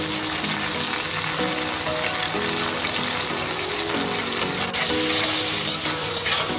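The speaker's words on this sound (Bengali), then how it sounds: "এটা আমরা ভালো করে নেড়ে চেড়ে নিচ্ছি মশলাটা।" Spice masala with turmeric, salt and a pinch of sugar frying and being stirred for a Bengali bhetki fish curry, a continuous hiss and sizzle with stirring scrapes, which swells louder and brighter near the end.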